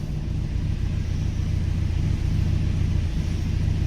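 Datsun B210 120Y engine rumbling steadily while driving, a low continuous drone heard from inside the car with no talking.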